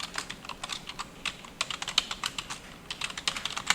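Fast, continuous typing on a computer keyboard, close and crisp, with rapid irregular key clicks and a few heavier keystrokes such as the Enter key, and no voices.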